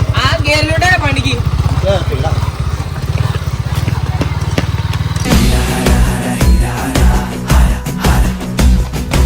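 A motorcycle engine idles with a steady low throbbing thrum, then revs up into a louder, rougher rumble with uneven bursts, close by while people talk over it.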